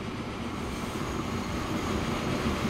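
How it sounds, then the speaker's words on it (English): A fast train rolls steadily in the Transport Fever video game, a continuous loud rumbling drone that holds through the whole stretch with no voices. "And it's a fast train."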